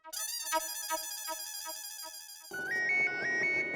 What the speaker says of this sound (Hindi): अरे फोन आ रहा है